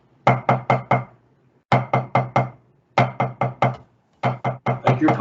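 Drumsticks rapping a practice pad in quick groups of four pulled strokes with short pauses between, each hit crisp and close, sharp attacks under a steady, unchanging loudness.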